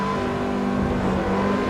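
Lotus Exos 125 Stage 1 race car engine in the Assetto Corsa racing game, a steady loud roar held throughout with no voices.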